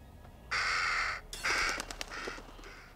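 Crows caw in the horror game Little Hope, a long harsh call followed by a second call and a string of shorter rasping caws, fairly close over a quiet ambient background.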